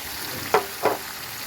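Onion paste fries in a pan for pepper chicken masala, a soft sizzle with two quick stirring scrapes close by.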